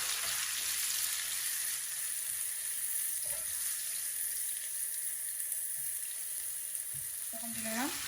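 Sliced onions sizzling in hot oil in a pan for a radish fry, a steady, fairly quiet hiss that runs unbroken, with a faint clink near the end.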